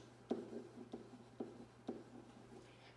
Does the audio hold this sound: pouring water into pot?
no